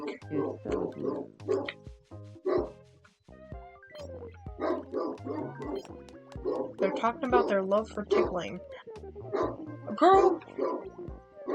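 A dog barks and yips repeatedly in the background during gameplay of Tomodachi Life: Living the Dream, the short bursts scattered under ongoing speech and chattering game voices.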